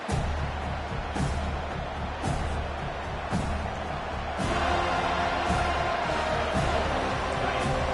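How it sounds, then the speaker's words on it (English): Stadium crowd at a college football game roars loudly and steadily, with sharp thumps and crowd swells throughout, under a commentator's voice. "This crowd bringing an ear-splitting welcome to their visitors."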